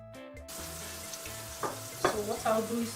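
A spoon stirs food frying in a pan while making a homemade sandwich; a low hum opens, then continuous sizzling with a few distinct scraping stirs near the end, close and moderately loud.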